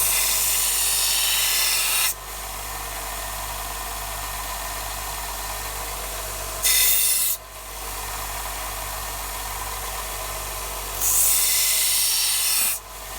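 A lawn mower blade being sharpened with 100 grit abrasive on a power tool, a steady close grinding rasp that runs throughout, rising in loudness during three brief bursts.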